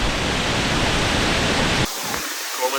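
Steady, loud broadband rush of a waterfall spraying water, close by, continuous for almost two seconds before cutting abruptly to quieter background with faint sounds.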